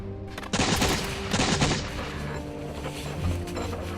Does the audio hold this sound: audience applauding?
no